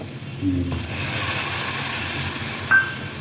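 Tomato, onion and garlic sizzle in sesame oil in a pan, a steady close hiss lasting a few seconds, with a brief sharper burst near the end.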